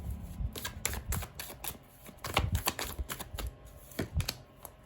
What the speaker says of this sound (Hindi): और कुछ कार्ड्स हम निकालते हैं।